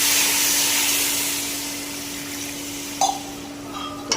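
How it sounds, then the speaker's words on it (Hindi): Water from a half glass poured into jaggery paste in a kadhai, a loud continuous splashing rush that gradually eases, followed by a couple of short clinks and taps. "इसमें डालेंगे हम हाफ गिलास पानी का"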